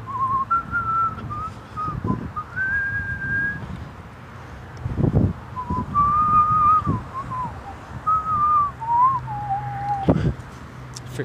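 A person whistles a wandering melody while biking near a highway. Clear, close tonal phrases rise and fall in short bursts, with brief pauses and occasional bumps and rustles underneath.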